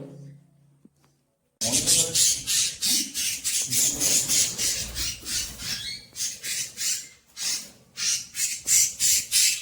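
Several pet birds squawk and chatter close by in rapid, repeated bursts. After a short quiet start the calls run densely and almost without a break.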